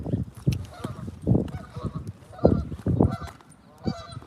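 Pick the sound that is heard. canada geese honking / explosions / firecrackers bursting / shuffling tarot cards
canada geese honking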